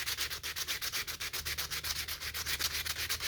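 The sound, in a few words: sanding a carved cedar cat with sandpaper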